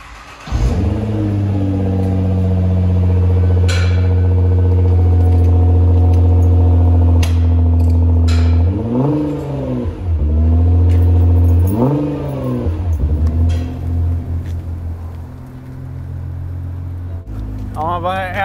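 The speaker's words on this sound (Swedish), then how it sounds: "Nu känns det som att det sitter en riktig motor i." Nissan GT-R V6 engine on a dyno, loud and close: it starts, settles into a deep steady idle, then gives a couple of sharp revs and drops back, with people talking over it.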